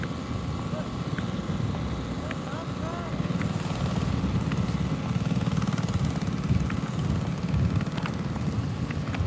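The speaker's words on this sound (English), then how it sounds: "We got people coming in bikes and shit and that." Motorcycles arrive at a late-night gathering, with a steady low engine rumble throughout under loud, continuous background noise, and no clear talk.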